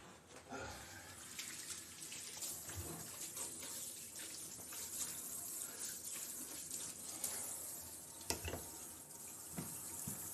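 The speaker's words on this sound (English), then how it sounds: "I like to wash my hands while I cook" Water runs steadily from a kitchen tap while hands are washed during cooking, a continuous soft hiss with small splashes and clatters, fairly faint and without talking.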